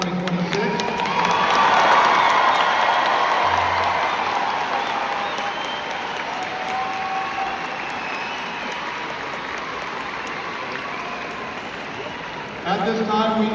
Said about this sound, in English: please join me in one final round of applause for the class of 2026